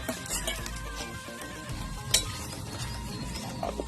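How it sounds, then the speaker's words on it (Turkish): A utensil stirs food heating in a pan over continuous low sizzling, with scraping clicks and one sharper clatter near the middle, close and steady with no talk. "Şunu bir karıştırayım"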